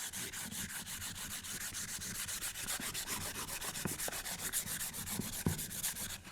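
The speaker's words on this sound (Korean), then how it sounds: "여러분들이 목재를 양면을 다 사포를 하실 경우에 그래도 이 뒷면보다는 노출되는 면을 더 부드럽게 해주시는 게 좋겠죠" Sandpaper rubs back and forth across a rough wood panel in steady, rapid strokes, a close, dry scratching that continues alone without talk throughout.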